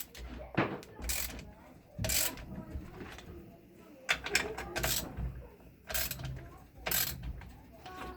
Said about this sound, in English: You're actually pressing the crank bearing into the block.